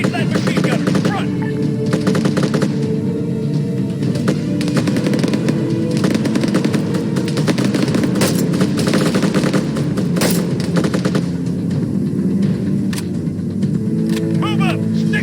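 Rapid automatic gunfire rattles continuously in the military shooter game ArmA 3, dense and loud, with voices calling out over the shooting.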